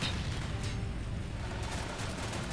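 Explosions in the video game Call of Duty: Black Ops make a continuous low, booming rumble. Dull blasts blur together under a steady wash of noise and stay at moderate, distant-sounding loudness throughout.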